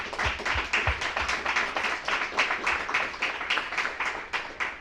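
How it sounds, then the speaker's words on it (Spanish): A small audience at a university community gathering claps, sparse and separate hand claps with a few sharp close ones near the start, fairly quiet overall and without talk. "Un aplauso por favor a todas las."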